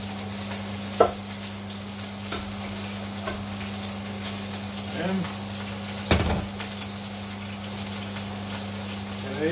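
Pancetta fries in a pan with a steady close sizzle, punctuated by a few sharp clacks and knocks of utensils against the pan.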